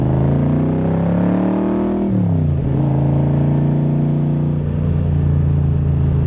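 A 1965 Shelby Cobra replica, a Superformance MKIII, accelerates with a loud, close engine drone that climbs in pitch, drops sharply at a gear change and then rises steadily again.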